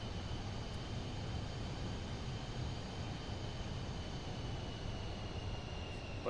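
Steady, dense engine roar of an aircraft climbing out after takeoff in Microsoft Flight Simulator 2024, a constant broadband drone with a faint high whine running throughout, no talking.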